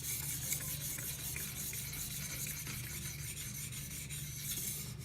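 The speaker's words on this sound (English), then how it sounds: "we'll go through another round with 800 grit stone" A blade is drawn across a soaked 800 grit whetstone in a guided sharpener, giving a continuous soft rasping scrape that stays steady and close throughout, with no voices.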